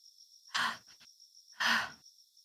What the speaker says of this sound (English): I hear heavy breathing